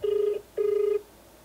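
Two ringback tone bursts on an outgoing phone call, each about half a second long with a short gap between them, steady and clear with no talking.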